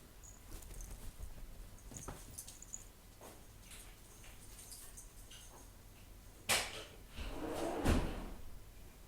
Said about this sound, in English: Need to open the door.